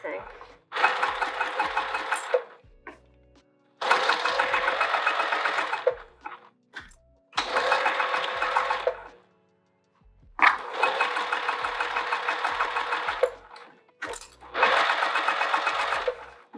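A sewing machine stitches a bucket tote in five stop-start bursts of steady, rapid whirring, each lasting a couple of seconds and separated by short pauses, loud and close.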